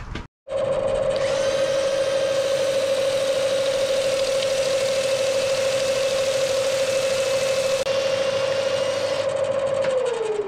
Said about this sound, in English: Time to sand it up then.